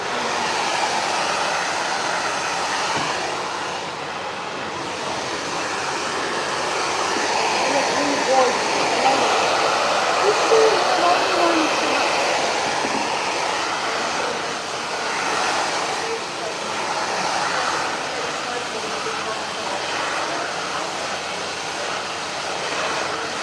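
A hair dryer blow-drying a bob haircut, a loud, steady, close whooshing roar of air that runs unbroken the whole time with slight swells as the nozzle moves.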